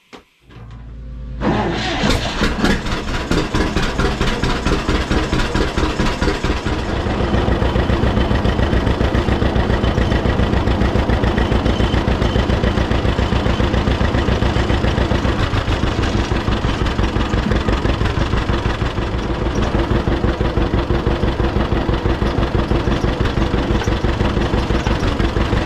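An old family tractor engine cranks, catches and settles into a loud, steady idle with a dense mechanical rumble and rapid even pulses, running alone close by for a long stretch.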